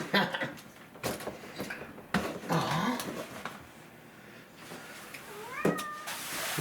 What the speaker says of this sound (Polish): aż koty krzyczą z radości